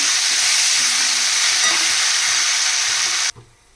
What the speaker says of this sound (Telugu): ఇప్పుడు ఇందులో పుదీనా వేసి పెట్టుకోవచ్చు ఫ్రై చేస్తాం